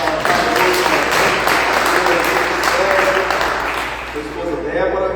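A congregation at a church celebration service applauds a couple, with dense, sustained clapping that fills the room and fades slightly near the end.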